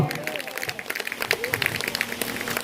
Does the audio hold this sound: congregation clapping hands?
yes